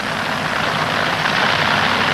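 Top Fuel dragsters idle at a drag-strip starting line, a steady, loud, dense engine roar with no gaps or rise in pitch, filling the whole stretch with constant rumbling noise.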